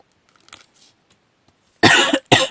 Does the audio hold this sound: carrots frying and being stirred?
no